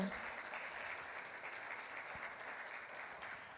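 Steady applause from an audience at a university panel discussion marking a tenth anniversary, moderately distant and continuous with no voices over it.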